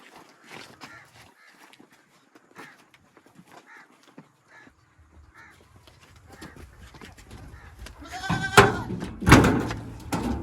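A goat bleats several times, loud and close, near the end after quieter bird calls and background voices, while people talk nearby.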